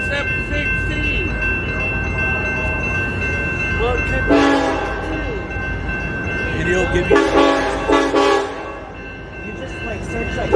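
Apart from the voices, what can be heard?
Union Pacific freight train passing with horn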